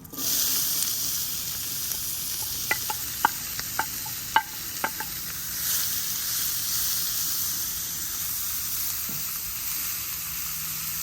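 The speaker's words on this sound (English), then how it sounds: "now let's put our onions in" Onions sizzle steadily in a paella pan with oil, a continuous close frying hiss broken by a few sharp clicks of stirring early on, with no one talking.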